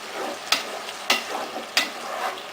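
Garlic, onions and tomato sizzle steadily in butter and olive oil in a pan, with three sharp scrapes of a stirring spoon spaced evenly through the continuous frying hiss.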